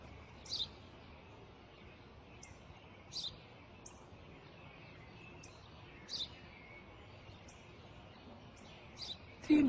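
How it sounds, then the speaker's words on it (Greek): Short, bright sparrow chirps repeat at irregular intervals over quiet background hiss, fairly close, with a louder bump at the very end. "Ένα σπουργίτη."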